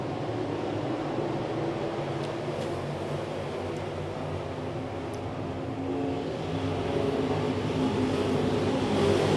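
Dirt late model race cars in a feature race at Cochran Motor Speedway, a steady distant engine roar from the pack that rises slightly toward the end, broad and droning with no talking.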